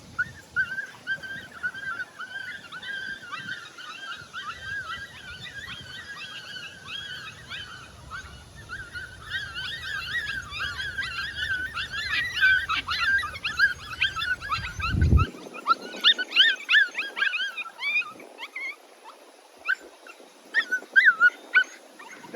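A puppy whimpers and squeals repeatedly in high, wavering cries during prey-drive work, near and insistent, with a brief thump midway and rustling handling noises.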